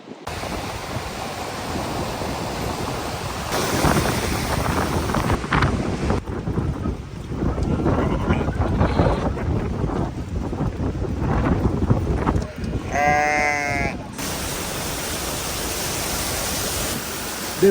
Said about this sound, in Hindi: देखो कितना जबरदस्त वाटरफॉल है सड़क के ऊपर।